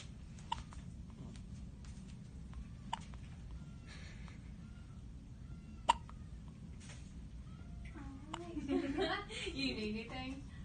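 A day-old newborn baby's hiccups come as a few faint, isolated sharp catches spaced seconds apart in a quiet room, followed by soft voices and chuckling near the end.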